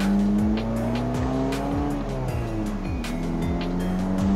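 A 2013 Suzuki Swift's 1.4-litre K14B DOHC engine, modified exhaust, revs steadily upward in repeated gear pulls on a straight, loud and close, with a rising drone and brief drops between shifts.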